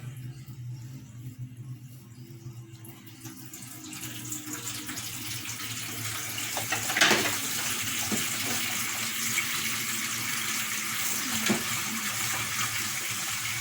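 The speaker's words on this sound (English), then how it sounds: "I'm just going to fill the sink up." Warm water runs from a tap into a sink, a steady broadband rush that builds and continues throughout with a slight surge midway, close and alone without talk.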